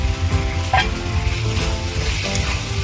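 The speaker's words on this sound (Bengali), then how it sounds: "এবার ভেজে রাখা আলুগুলো দিয়ে দেবো" Fried potatoes added to an oily, reduced gravy in a pan, a loud, close bubbling sizzle with a few soft scrapes and clinks of stirring, no voices.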